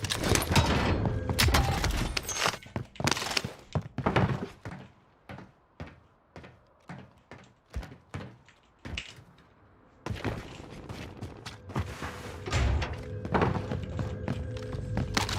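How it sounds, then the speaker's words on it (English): Gunfire in the video game Call of Duty: Warzone, dense bursts of shots at the start and end with a run of single thudding reports in between, loud and close. "Terrible gunfire."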